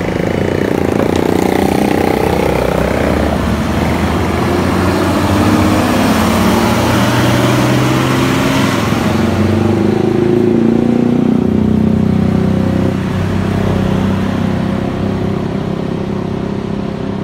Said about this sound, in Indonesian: bus Transport langsung melanjutkan perjalanan menuju Jakarta